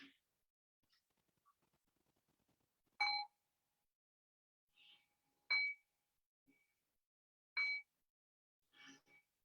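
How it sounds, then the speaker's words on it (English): A meditation bell struck three times at even intervals in a quiet room during a dharma talk, each clear ringing tone standing alone, with a few softer faint sounds between strikes. "I'll ring the bell and bring us back into a conversational space"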